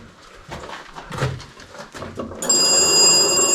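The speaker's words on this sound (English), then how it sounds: "Can you call someone on the phone?" A telephone rings partway through, its electronic tone bright and steady at full loudness, following scattered shuffling and clatter inside the Pioneer Tunnel anthracite coal mine in Ashland, Pennsylvania.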